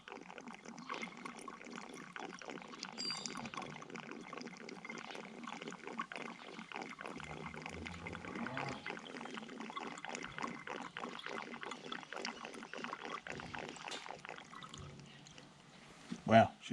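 Water pours and trickles steadily into a tractor battery (John Deere 6310), a continuous gurgling flow running throughout with a voice talking over it.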